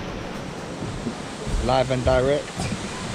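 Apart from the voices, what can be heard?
Algar Falls waterfall in Spain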